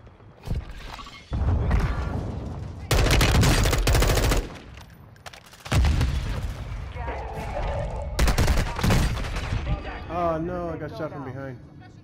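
Bursts of automatic gunfire in Call of Duty Modern Warfare II come in several loud clusters separated by short gaps, with voices chattering between the volleys.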